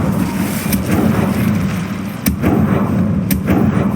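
Incendio fire spell cast in the Hogwarts Legacy video game, a loud steady rushing roar with a few sharp bursts cutting through, close and dense throughout with no talk.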